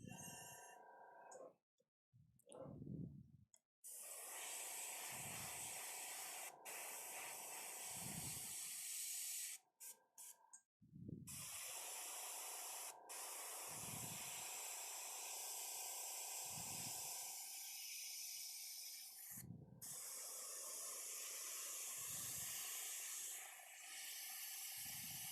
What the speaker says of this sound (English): Cleaning out your airbrush right away is very, very important.